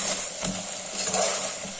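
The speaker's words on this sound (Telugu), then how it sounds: "కొంచెం పుదీనా వేసుకుంటున్నాను అలాగే కొంచెం కొత్తిమీర ఫ్రై చేసుకుందాం" Mint and coriander leaves frying in a pan for a mutton curry served with ghee rice, giving a steady close sizzle with faint stirring scrapes throughout, no voices.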